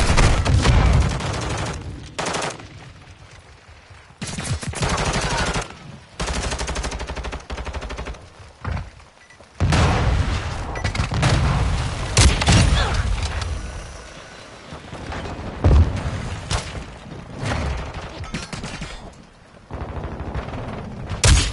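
Modern Warfare 2 firefight with sustained machine-gun bursts and dense volleys of shots, loud and close, broken by short pauses, with faint voices now and then.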